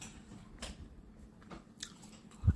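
Durian from Sisaket's volcanic soil eaten with sticky rice, heard as a few soft, close bites and chewing sounds over quiet background hum, with a sharper crunch near the end.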